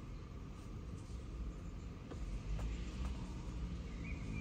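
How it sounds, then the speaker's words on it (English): BMW E39 530i engine idling with a cylinder misfire, a low, steady rumble heard close up with faint irregular ticks and no speech. "So we have misfire on the cylinder 5."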